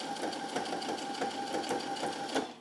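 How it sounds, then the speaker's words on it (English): A sewing machine runs steadily, stitching around the layers of a photo blanket with a fast, even mechanical whir and rhythmic needle clatter, close and alone. "just start sewing all the way around"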